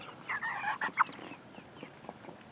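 Chickens clucking close by outdoors on a cold morning, a quick cluster of bright, warbling clucks followed by a few softer scattered calls.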